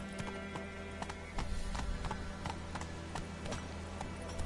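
Roach, a horse in Witcher 3, gallops with steady rhythmic clip-clop hoofbeats over game music and ambience, fairly loud and continuous.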